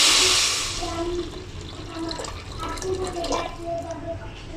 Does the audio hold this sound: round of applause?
no